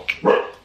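A dog gives a single short bark at close range, a quick yelp-like onset rising into a fuller bark, with no talking over it.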